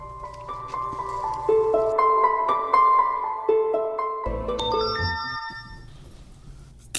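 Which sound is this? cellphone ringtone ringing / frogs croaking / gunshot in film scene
cellphone ringtone ringing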